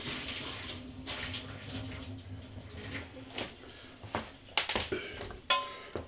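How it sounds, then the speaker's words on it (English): Hot water is drained from a pan of boiled potatoes in a home kitchen: a continuous quiet rush and splash, with a few sharp clinks of the pan near the end. "Get rid of some of this water."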